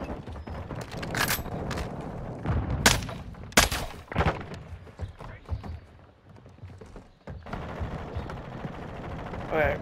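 Loud, separate bursts of fire from the Hurricane gun crack out in Modern Warfare 2, a few heavy shots spaced across the stretch with mechanical clatter between them, and a voice talking through it.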